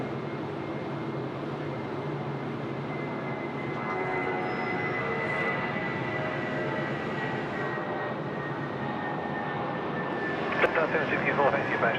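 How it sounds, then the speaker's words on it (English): An Airbus A320 jet of Jetstar takes off from runway 34 Left at Sydney Airport, a steady broad engine roar holding throughout at moderate distance, with a voice talking over it. "And the Jets A320 getting away off 34 left."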